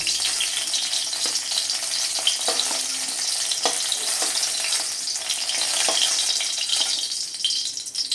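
Moringa drumsticks fry in hot oil with a dense, steady sizzle, close up, with occasional light clinks and scrapes as they are turned.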